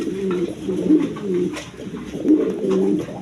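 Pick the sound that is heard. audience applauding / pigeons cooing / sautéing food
pigeons cooing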